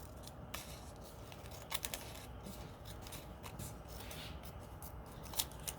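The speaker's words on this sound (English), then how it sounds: "I am going to cut it in half right up the middle" Scissors snipping through a long paper planner strip, a few quiet crisp cuts and rustles at close range, with no talking.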